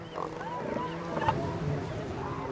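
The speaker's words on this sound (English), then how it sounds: "Their loud roars carry for up to 1 kilometer and signal dominance over their harem." Huge bull seals roar at a crowded breeding rookery, deep guttural bellows overlapping loudly and continuously, with other animals calling in the background.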